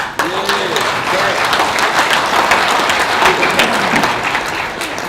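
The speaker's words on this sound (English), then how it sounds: "I'm going to applaud." An audience at a Bear Pit session applauds for the Minister of Natural Resources and Forestry, a steady wash of clapping with some sharper individual claps and faint voices mixed in.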